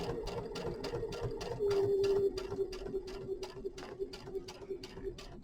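Sewing machine stitching quilt binding, a steady fast run of needle clatter with a brief louder burst partway, then a continuing rhythmic ticking as the stitching carries on close to the microphone.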